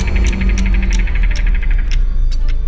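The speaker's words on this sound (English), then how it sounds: "That's the noise of the world entering turn-based mode." A steady low hum with a series of bright, evenly spaced electronic chimes pulsing above it as Baldur's Gate 3 enters turn-based mode on PS5, loud and close, with no voices.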